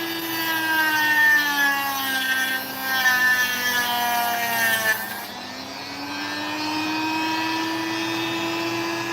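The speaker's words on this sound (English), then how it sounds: "So I am going to try to cut along the sand line and then try and deal with those cracks." Saw cutting through opal stone along the sand line, a steady whining motor tone with strong harmonics that dips in pitch under load around mid-cut, then settles into a quieter sustained drone.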